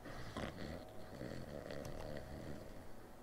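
A person snoring in the video game Kingdom Come: Deliverance, a steady rough snore rumbling close and loud through the whole stretch, with a few brief snorting bursts, no talk over it.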